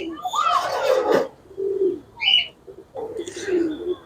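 A pair of Chinese Teddy pigeons coo close by in several separate rounds of low, throaty notes with short pauses between them, a thin higher chirp slipping in midway.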